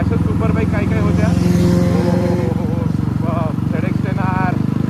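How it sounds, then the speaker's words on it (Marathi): A group of superbikes, including a Kawasaki ZX-10R, passing on a Sunday breakfast ride toward Lonavala, engines droning loudly and steadily with rising revs as they go by, nearby voices talking over the noise. "खूप सुपर बाईकचा ग्रुप निघाला आहे"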